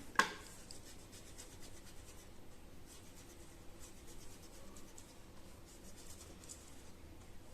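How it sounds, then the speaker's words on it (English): A pencil eraser rubs across paper on an engineering drawing: a faint, steady scrubbing that runs throughout, with one brief soft tap near the start and no talk. "so just I will erase this one"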